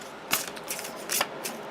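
An oracle card deck being shuffled by hand, giving several short papery riffling bursts close to the microphone with brief pauses between them, no voices.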